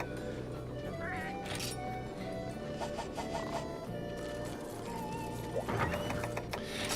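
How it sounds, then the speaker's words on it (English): Cat-like meows from a weapon in the video game Monster Hunter Freedom Unite, several short mews over busy game music and effects, with a louder cry near the end. "who wouldn't want to swing around a weapon that makes cat noises?"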